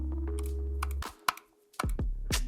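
Computer mouse being clicked, sharp crisp clicks, a handful spaced irregularly and close to the mic, standing out against a steady low hum that cuts off partway through.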